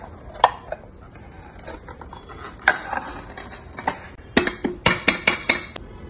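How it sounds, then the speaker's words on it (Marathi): A knife runs around the edge of a baking pan to loosen baked kunafa, giving scattered metallic scrapes and taps that build into a quick run of sharp clinks near the end. The sounds are close and there is no talking. "बेक झालेलं कुनाफा आहे त्याला आता साईडने असं सुरीने थोडंसं सोडवून घ्यायचं आहे"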